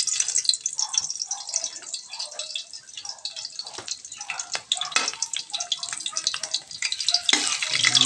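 Garlic sizzling in hot oil in a pan, a continuous bright crackle with sputtering pops, close and fairly loud, with occasional light stirring.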